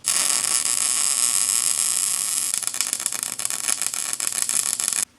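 Welding salvaged metal barn door hardware: a loud, steady buzzing hiss that turns crackly and irregular partway through, then cuts off abruptly at the end.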